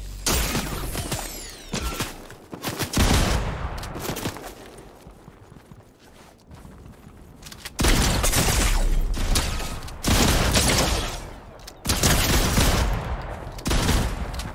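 Repeated heavy blasts from a double-barrelled shotgun in Fortnite, loud booming shots spaced across the stretch amid mechanical clatter and game noise, with quieter gaps between volleys and no talking.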